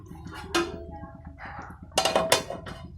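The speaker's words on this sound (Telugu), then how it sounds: "మూత పెట్టేసుకుందాం" A couple of metallic clanks as a lid is set on a pot of egg and dried prawn curry, with faint kitchen clatter and a low background hum.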